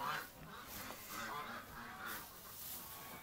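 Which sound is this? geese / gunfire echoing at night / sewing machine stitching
geese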